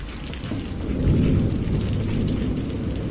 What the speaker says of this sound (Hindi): चोर नहीं रे मूर्ख, बारिश आई है।